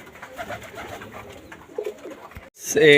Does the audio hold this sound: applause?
no